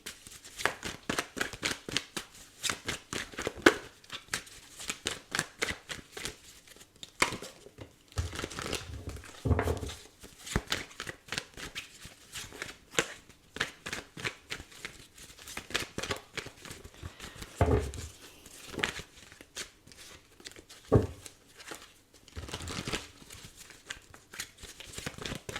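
Tarot cards shuffled and handled in a steady stream of soft crinkling riffles and flicks, with a few sharper slaps as cards land, close up and alone without talk.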